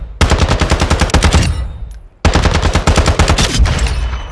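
A B&T APC223 PDW fires in Modern Warfare II in two loud, rapid full-auto bursts, the first about 1.3 seconds long and the second about 2 seconds long, separated by a short silent gap.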